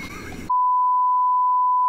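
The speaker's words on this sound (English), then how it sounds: "Now I can bleep him out." Brief muffled talking cuts off abruptly into a steady, loud high-pitched bleep tone that holds for over a second.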